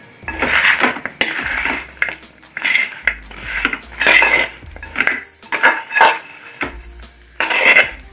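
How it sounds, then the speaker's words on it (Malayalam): Sarkara varatti is stirred with rice flour in a pan, making rhythmic bursts of scraping and rattling about once a second, close and loud, with no speech. "അത് ഒരു ടീസ്പൂൺ ഇട്ട് അത് ഇളക്കി കൊടുക്കുക"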